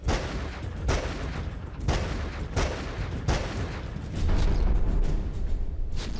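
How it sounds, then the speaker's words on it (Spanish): A series of loud, sharp gunshots, about five bangs spaced roughly a second apart over a constant noisy background. "Los disparos fueron 5 en total."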